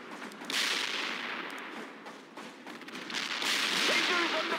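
Battlefield gunfire in the real-time strategy game World in Conflict: sharp cracks and bursts come in uneven clusters over a steady roar of combat, loud and close throughout.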